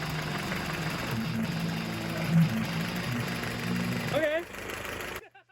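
A Jeep engine with a blown head gasket idles in a steady, low rumble for several seconds, then drops away and cuts out near the end, with a voice speaking briefly.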